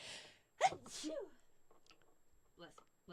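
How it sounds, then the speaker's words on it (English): A person gives one sharp, loud sneeze during a live radio show, with brief talking just before it and quiet murmuring afterward. "Everybody saw you turn your head and sneeze all over me"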